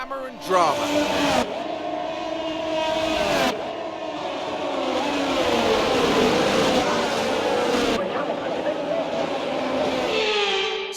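Formula One cars in the F1 23 video game roll through the formation lap at Monaco, a steady engine drone with rising and falling revs under a commentator's voice, broken by brief cuts.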